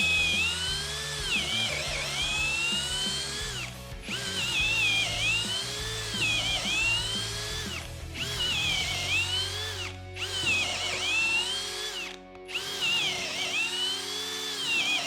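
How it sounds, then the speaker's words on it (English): TECCPO 20V Max 1/2-inch cordless drill driver boring into wood on high speed, a loud, close whining motor in repeated bursts of about four seconds, each with brief pauses and pitch dips where the bit bogs and recovers. "let's kick this up on high"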